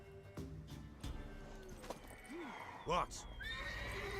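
A horse in the video game The Witcher 3 whinnies with a rising and falling neigh, accompanied by a few hoof clip-clops and a snort; a brief voice speaks quietly underneath.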